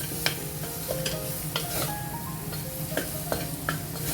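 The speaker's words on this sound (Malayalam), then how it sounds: "എന്നിട്ടെല്ലാം കൂടെ നന്നായി ഒന്ന് മിക്സ് ചെയ്യുക" Soya chunks being stirred with masala in a pan for Kerala-style vegetarian tapioca biriyani, a spoon scraping and clinking in repeated strokes over a steady low sizzle, close and moderately loud.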